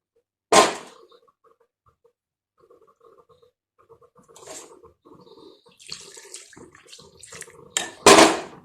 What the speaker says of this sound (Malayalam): നമുക്കിതിലേക്ക് കുറച്ച് വെള്ളം ചേർത്ത് കൊടുക്കാം